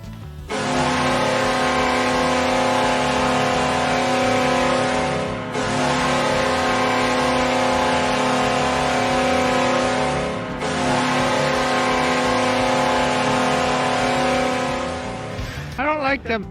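The Buffalo Sabres NHL goal horn blares loud and nasal in long sustained blasts, three in a row with brief gaps, over a steady arena crowd roar.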